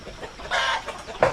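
A chicken clucks in short bursts, with a louder squawk near the end and some rustling behind it.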